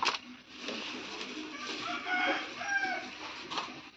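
Poultry chickens cluck and crow in short, moderately quiet bursts, with a few sharper calls standing out over a low background.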